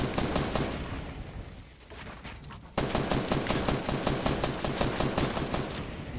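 Rapid video game gunfire fills the space in dense, loud automatic bursts, a brief lull easing off before another sharp, sustained volley of fast shots resumes up close.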